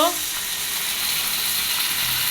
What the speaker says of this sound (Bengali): তেলের সাথে ভেজে নিব এবার আমগুলো ভেজে নিয়ে এর ভিতরে দিব